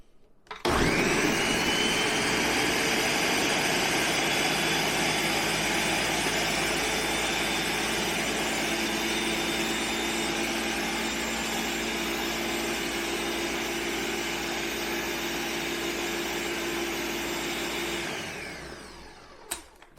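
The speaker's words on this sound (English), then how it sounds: "And then we're going to blend it until it's smooth" Dairy-free protein pudding whirred in a blender, a loud steady motor roar starting abruptly, holding for about seventeen seconds, then winding down and stopping.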